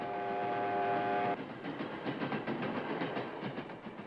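Documentary sound effect of a train carrying a prisoner to a concentration camp, a sustained steam-whistle-like tone giving way to rhythmic rolling clatter of wagons, moderately loud and without speech.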